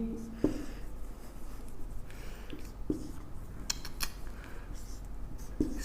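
Pen strokes scratch out a profit and loss maths solution by hand, a faint continuous scribble broken by a few sharp taps, with no voices.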